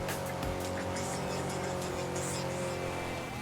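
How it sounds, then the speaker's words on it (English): A Maserati engine drives steadily in Forza Horizon 5, a continuous loud drone with a rising rev and busy high-end roar throughout, with no talk over it. "It's a really nice sounding car too."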